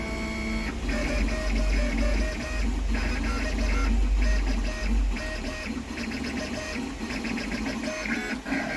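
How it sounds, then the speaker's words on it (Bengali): Printer running a job of text for stickers, a busy mechanical whirring with rapid rhythmic clicking and a low hum, close and continuous with brief shifts in pace. "এবার আমার ওই লেখাটা প্রিন্ট দেওয়া হবে চেকিং হচ্ছে গুঁ গাঁ করছে"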